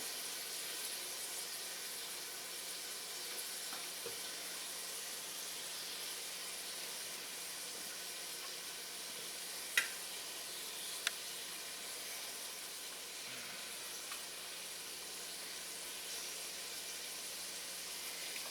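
Vegetables for a Thai red curry paste chicken curry sizzle in a pan, a soft, steady hiss that runs unbroken, with a couple of brief faint clicks partway through.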